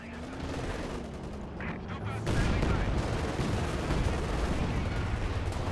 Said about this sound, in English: Machine gun there needs to be careful.